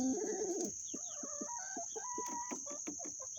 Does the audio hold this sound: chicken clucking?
yes